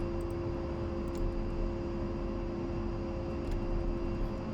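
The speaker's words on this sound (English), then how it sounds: "I'm going to be a little bit of a daredevil and actually take off without flaps." An A-10C jet spools up for a no-flaps takeoff in Digital Combat Simulator, giving a loud steady engine drone with a sustained hum and no break.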